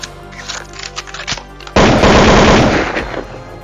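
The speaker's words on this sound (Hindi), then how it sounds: "तभी वह भी सीएम के ऊपर फायरिंग चालू कर देते हैं।" A gunfire sound effect in an animated fight erupts as a loud, dense burst of rapid shots after a quieter stretch, continuing to the end.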